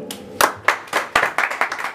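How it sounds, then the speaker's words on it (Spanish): Audience applause at a live mariachi performance for a Women's Day event, with individual claps building into a short burst of hand clapping after a song, fairly close and clear. "ese aplauso bien bonito."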